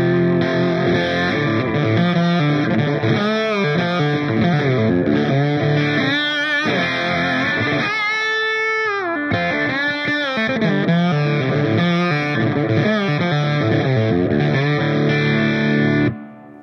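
Electric guitar with a dirty, distorted tone through a Black Volt pedal and spring reverb, playing continuously and loudly for about sixteen seconds with chords and sustained notes, then cutting off.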